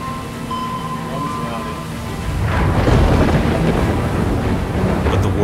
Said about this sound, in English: We gotta move around this storm.